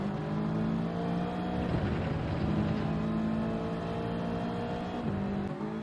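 Race cars circle Deep Forest Raceway in Gran Turismo 7, a steady droning engine whine held at high revs with a couple of brief dips as gears shift, other cars faintly audible nearby.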